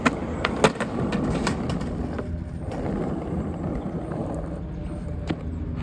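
A skateboard rolls steadily over pavement, with a sharp pop and clacks of the board near the start, then a continuous close rumble of wheels and no talk.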